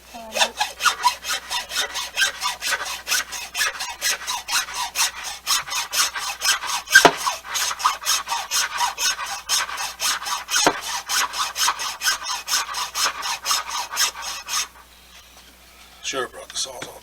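Hand saw cutting the cap off a deer skull, rapid back-and-forth rasping strokes, close and steady for about fourteen seconds, then stopping, with brief talk afterward.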